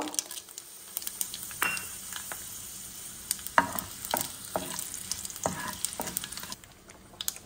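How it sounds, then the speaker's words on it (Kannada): Mustard seeds and two dry chillies hit hot oil in a pan and set off a close, crackling sizzle. Sharp pops and spoon clinks break it up at irregular moments, and nobody speaks. "ಎಣ್ಣೆ ಬಿಸಿ ಆಯಿತು ಈಗ ಅರ್ಧ ಚಮಚದಷ್ಟು ಸಾಸಿವೆ ಹಾಕ್ತಿದ್ದೇನೆ ಇದೇ ಹೊತ್ತಿಗೆ ಎರಡು ಒಣಮೆಣಸು ಹಾಕ್ತಿದ್ದೇನೆ"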